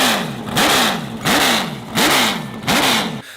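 A 6.8-litre World of Outlaws sprint car V8 is revved four times in quick succession. Each blip rises sharply and drops back to a rough idle between bursts, loud and close.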